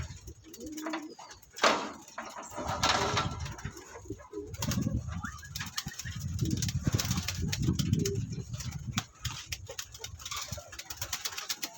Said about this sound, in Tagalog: Yung ibon, ngayon papakainin ko pa lang.